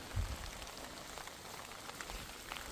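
Steady rain pattering on a tent during a bikepacking trip, a close, even hiss of drops with a soft thump near the start and no voices.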